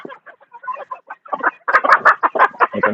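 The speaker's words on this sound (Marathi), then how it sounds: "गावरान जातीचा कोंबडा." A Gavran (native desi) breed rooster clucks close up at a poultry farm, a run of short choppy calls that grows louder and denser toward the end.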